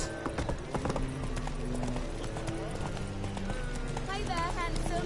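Hooves of Roach, Geralt's horse in the video game The Witcher 3: Wild Hunt (Hearts of Stone), clip-clopping in a steady gait, with a snort or whinny and background music alongside a voice.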